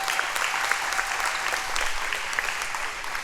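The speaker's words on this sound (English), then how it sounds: "Please give our sponsors a big round of applause." A crowd in a school gym before a varsity volleyball match gives a sustained round of applause, dense and even clapping throughout with no one speaking over it.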